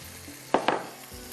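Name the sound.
besan roasting in spiced minced meat keema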